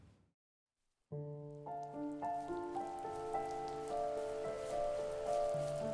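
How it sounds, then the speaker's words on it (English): Soft, steady rain falls across a scene in the video game The First Tree, starting abruptly after a brief silence and blending with gentle tonal music, with no talking. "It's raining now."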